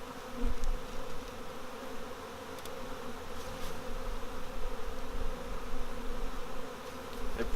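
A swarm of honey bees hums steadily and close, a dense continuous buzz that swells and eases slightly, with no voices over it.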